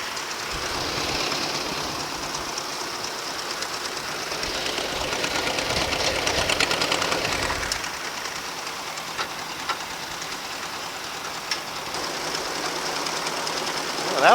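A Ford tractor engine runs steadily at a little throttle, a continuous mechanical chugging drone with a faint knock that holds near and fairly loud throughout, swelling slightly midway.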